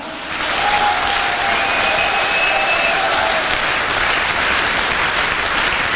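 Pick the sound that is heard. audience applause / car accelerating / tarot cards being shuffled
audience applause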